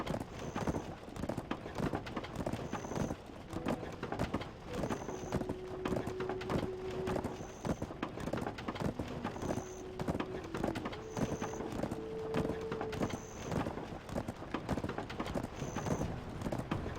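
Donkey hooves trotting in the Black Desert game, a steady quick clip-clop rhythm running throughout at close range, with faint intermittent tonal game sounds in the background and no talk.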